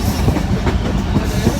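A crowded passenger train runs along the rails on the line from Hyderabad toward Khokhropar, a steady loud rumble with faint rhythmic clatter throughout.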